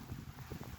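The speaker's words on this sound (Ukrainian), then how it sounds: "Подивіться, що це який вітер." Cold winter wind gusts across the microphone outdoors in Ukraine, a brief rumbling buffet of low roaring bursts up close.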